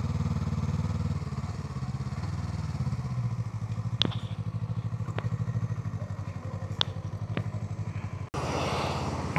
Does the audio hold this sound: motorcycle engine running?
yes